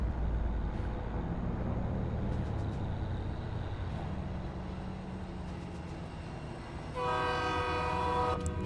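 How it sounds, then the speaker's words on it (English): A train passes loudly in American Truck Simulator, a steady rumble of rail cars joined near the end by a loud, sustained multi-tone train horn. "That train is loud."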